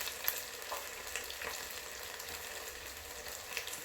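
Beer-battered onion rings frying in hot oil, a steady close crackling sizzle with small bubbling pops throughout, no talking.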